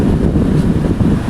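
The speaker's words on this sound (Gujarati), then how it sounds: "�ફૂલ ઠંડી હવા આવે છે ભાઈ" A village air cooler switched on and blowing air, a loud, steady low rushing whoosh close to the microphone, with no voices.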